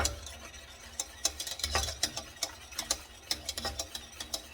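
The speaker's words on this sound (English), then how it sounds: "I'm going to stir that up. Whisk it good." A whisk stirring a sugar mixture in a pot on an unlit stove for banana pudding: rapid, rhythmic metallic clicks and scrapes against the pot, close and fairly quiet, with no talking.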